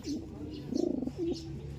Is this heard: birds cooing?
yes